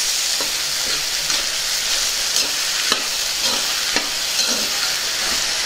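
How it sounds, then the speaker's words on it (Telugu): Brinjal pieces frying and being stirred in a pan for an eggplant and peas curry, a steady close sizzle with scattered scraping strokes of the spoon throughout. "ముందుగా శుభ్రం చేసుకున్న వంకాయ ముక్కల్ని కూడా ఇందులో వేసుకుందాం. ఒకసారి బాగా కలుపుకుందాం."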